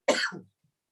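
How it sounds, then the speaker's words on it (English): A single short, sharp cough from a man at a quiz contest, close and loud, ending abruptly. "Liam coughed over the score."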